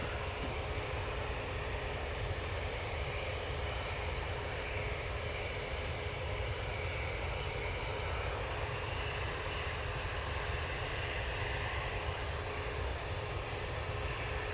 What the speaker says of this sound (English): And here's the Dreamliner.